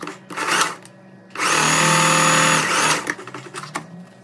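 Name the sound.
sewing machine stitching a pocket seam on trousers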